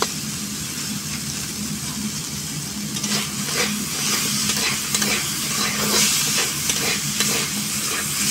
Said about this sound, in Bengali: এবারে আমি একটু এইভাবে নাড়ে চাড়ে ভিজে নেব, এইভাবে সুন্দর করে একটু যেন ভাজা যায়